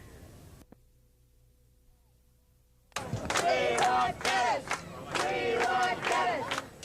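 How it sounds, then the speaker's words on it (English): A crowd of more than 500 cheers and roars in the old town square of Key West, loud and sustained after a quiet stretch, with voices shouting over the din. "A crowd of more than 500 gathered in the old square this morning"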